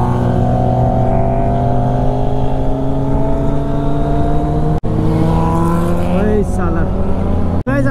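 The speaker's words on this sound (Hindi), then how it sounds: "बस एग्जॉस्ट का साउंड सुनना" A superbike's exhaust drones loudly and steadily while riding, a close, continuous engine hum with strong tonal layers that barely changes from start to finish.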